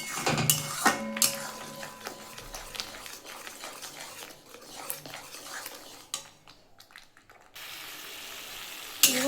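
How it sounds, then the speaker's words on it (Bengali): Banana stem paste with green and dried red chilli frying in a pan at home, with scattered clatter of a utensil scraping and stirring against the pan over a faint sizzle, fairly close. "ভাজতে ভাজতে কমে যাচ্ছে এটা ভাজতে অনেকটা সময় লাগে"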